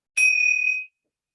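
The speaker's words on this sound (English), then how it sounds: "So I've got my little bell." A small handheld bell struck once gives a single bright, clear ding that rings out for under a second and fades into silence, close and alone.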